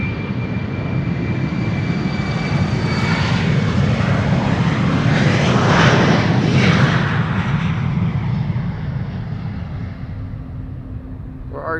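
A KLM jet airliner, registration PH-EXB, taking off at Amsterdam Schiphol on a sunny day, a steady broad roar that builds to a peak around the middle and then eases off.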